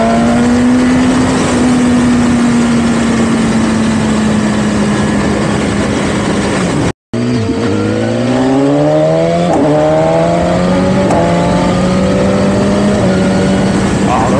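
BMW S1000RR sport motorcycle ridden over a rough road, its engine droning steadily loud and close with rising and falling pitch through gear changes, a brief dropout midway, heavy wind rush throughout.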